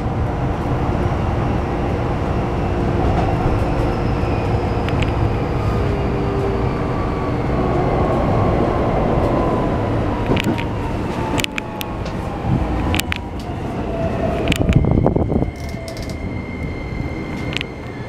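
A Keikyu New 1000 series eight-car train with Toyo IGBT and hybrid SiC inverters runs on the Keikyu Main Line as an Airport Express to Haneda Airport, a loud steady motor whine and rumble with rising tones and clattering near the end.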